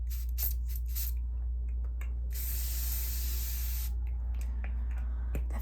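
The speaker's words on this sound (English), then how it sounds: "this is just some spray water. I like to hydrate my face." A spray bottle mists water onto a face up close. Several quick short spritzes are followed by one longer hissing spray, all over a low steady background hum, with no talking.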